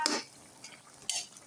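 Spoon stirring boiling sauce in a cooking pot, two clattering scrapes against the metal separated by a soft low bubbling, faint and close.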